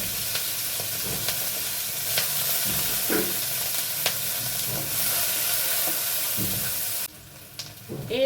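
Chopped onion and green chilli fry in oil with nigella seeds in a pan, giving a dense continuous sizzle with occasional stirring clicks close up, before the sound cuts abruptly near the end.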